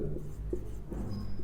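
Chalk or marker scratches across a board during a maths lecture, a few short close strokes in quick succession.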